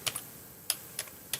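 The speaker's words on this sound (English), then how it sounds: "just enter in" Keys clatter on a computer keyboard in a short burst of quick, light taps with brief pauses, close and clear against a quiet room.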